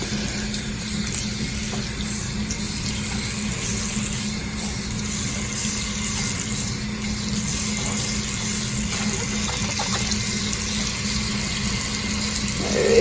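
Running water rinsing soap off a bathroom backsplash, a steady close hiss of flowing water that carries on unbroken throughout.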